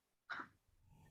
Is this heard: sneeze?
yes